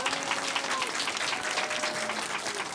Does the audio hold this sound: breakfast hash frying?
no